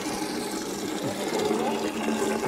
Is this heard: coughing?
no